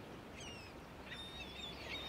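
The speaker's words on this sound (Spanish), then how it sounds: "Las gaviotas." Seagulls in Istanbul give thin, faint cries from a distance, carried over a steady wash of city and wind ambience.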